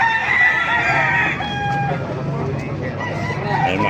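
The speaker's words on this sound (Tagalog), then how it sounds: "Ito na mga manok." Chickens and roosters at a poultry gathering in Baliuag, Bulacan crow and cluck loudly and close by, several overlapping calls filling the short stretch without pause.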